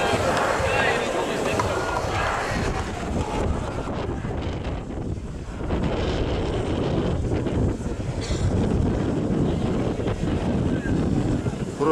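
Strong wind of about 9.5 metres per second buffets the microphone at an outdoor rally, a constant loud rumbling roar with a crowd murmuring beneath it.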